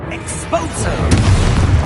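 A spell explosion in the Hogwarts Legacy video game booms out as a single heavy, low blast with a rumbling tail, close and loud, following a brief spoken incantation.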